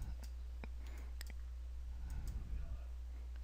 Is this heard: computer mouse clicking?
yes